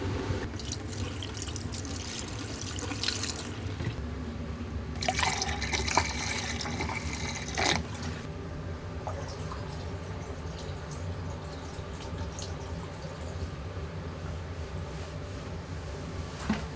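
Leftover RV antifreeze is poured from jugs into the traps of camper sinks and a shower, making a faint, continuous liquid trickle with a few brief splashing bursts and drips, heard indoors without talk.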